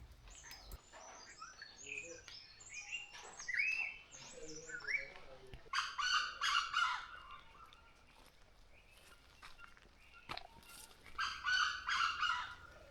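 An unidentified melodious whistling bird calls in the forest at Kudremukh, giving clear, varied whistled phrases in bursts separated by pauses, fairly near and carrying over a quiet background.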